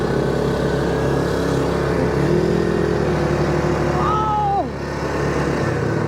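A motorbike engine climbs a desert sand dune, droning steadily and loudly close by, its pitch sliding around midway before the note drops and the engine eases off.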